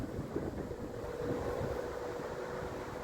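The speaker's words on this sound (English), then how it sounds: "It's quite windy today, sorry if there's any wind sound." Soft, steady wind rumble buffets the microphone throughout, a constant low roar with no speech.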